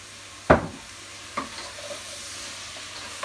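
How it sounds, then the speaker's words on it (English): Broccoli soup mix being stirred in an oiled pan for broccoli and Stilton soup, a sharp spoon scrape followed by a second lighter scrape over a low, steady sizzle, close and with no talking. "Stirring it round."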